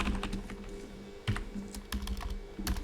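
Keys clatter on a computer keyboard in short irregular bursts of typing, close and fairly quiet, with a steady low hum beneath and no voices.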